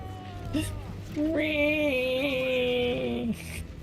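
A kitten-like war cry in Warhammer 40,000: Space Marine II: a thin, wavering, meow-like wail that rises and holds for about two seconds mid-clip over ongoing game noise.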